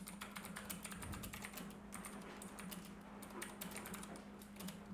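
Someone types a Facebook post caption on a computer keyboard, producing quick, soft, irregular key clicks in bursts with short pauses, faint and close against a low background hum, with no talk.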